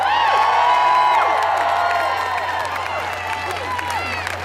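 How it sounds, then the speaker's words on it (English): Rally crowd in a Brooklyn park cheering, whooping and clapping steadily, a dense sustained roar of many voices with scattered shouts and applause throughout. "Let's keep the cheering going"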